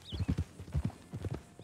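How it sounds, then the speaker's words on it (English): Horse hooves clip-clopping in Red Dead Redemption 2, a quick uneven rhythm of close, moderately loud hoof strikes on ground at a walk or trot, with a faint bird chirp. "That's a pretty horse John has"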